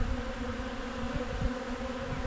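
Honey bees buzzing in a hive with emerged queen cells, fighting bees and chilled brood: a dense, steady drone of many wings close by, continuous with no talk.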